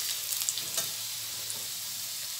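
Cumin seeds and chopped garlic frying in a pan while being stirred, a steady sizzle with a few soft scrapes of the spoon early on, close and fairly quiet.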